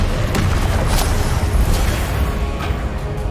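The Incendio fire spell in Hogwarts Legacy gives a loud, steady, roaring rush of flame with low rumbling weight that stays dense for the whole stretch, with no voices.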